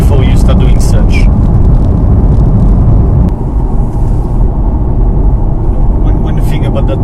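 A 2023 Corvette C8 Z51 mid-engine car accelerates hard with a loud, close, continuous engine roar and heavy low rumble, while faint voices come through over it near the start and end.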